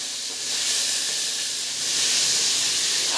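Panch phoron (five-spice mix) frying in hot oil in a home kitchen gives a steady, close sizzling hiss that swells louder partway through, with no one speaking.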